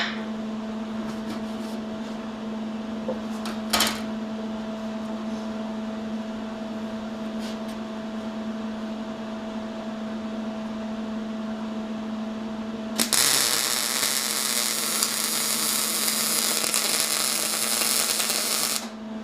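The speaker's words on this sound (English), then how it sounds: "We'll see if I can speed up a little bit and show you what a fast weld looks like" A fast weld bead being run, setting in with an abrupt, steady, loud crackling hiss partway through after a stretch of quiet electrical hum and a couple of faint clicks, with no talk.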